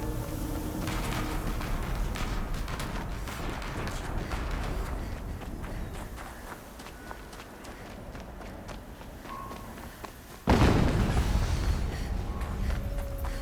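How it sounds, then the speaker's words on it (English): An explosion in Horizon Zero Dawn bursts in suddenly and loudly over a busy background of rapid, footstep-like game sounds, then its rumble lingers at a raised level. "An explosion."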